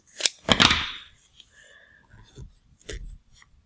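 Material for bicycle handlebars being cut to length, heard as a few short, sharp snips clustered near the start, followed by quieter handling noises and one more cut near the end, with no talking.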